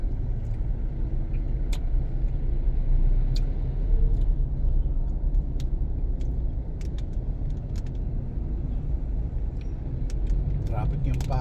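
Heavy road traffic on C5 Road in Libis rumbles steadily and continuously, a dense low roar of cars and engines with occasional faint clicks and rattles.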